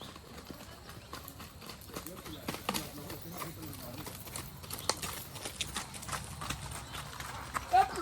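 Horses walk in a group ride in Colombia, hooves clip-clopping on hard ground in an uneven, plodding rhythm, with birds cooing and faint voices in the background.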